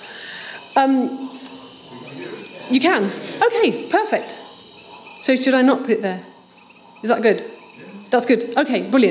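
A recorded soundscape of frogs, grasshoppers and katydids plays as a faint, steady chorus of insect-like trilling and chirps, largely buried under close conversation between people.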